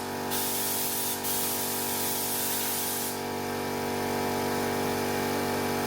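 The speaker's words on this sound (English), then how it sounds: "you do have to try and spray out the gun quite equal to make sure it's all matching right along the sill" Spray gun applying Gravitex stone chip coating along the rusty sill of a Mazda MX-5, a loud steady hiss running continuously throughout with small shifts in spray intensity.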